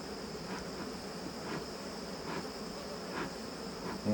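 Honey bees fan their wings at the hive entrance, making a steady, continuous buzzing drone with faint pulsing swells throughout.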